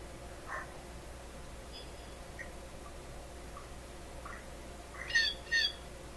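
Two sharp bird squawks close together near the end, picked up through the built-in microphone of an Escam QF003 HD 1080P mini WiFi IP camera, standing out over a steady low hiss after a few faint chirps.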